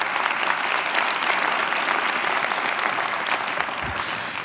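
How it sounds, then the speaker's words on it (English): Audience applause at a school district State of the Schools event, a dense, steady clapping from a large crowd filling the room, continuous and even, tapering only slightly at the end. "let's give them a round of applause as well"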